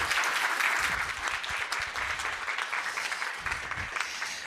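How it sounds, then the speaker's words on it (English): A conference audience applauds their panel speakers with dense, sustained clapping that fills the room steadily from start to finish, no voices rising above it. "So let's have a round of applause and thank our speakers."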